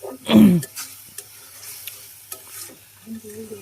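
Onions sautéing in a pan give a soft sizzle, opening with a loud scraping stir and followed by a few light clicks of a utensil against the pan.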